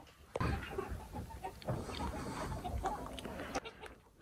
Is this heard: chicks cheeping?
yes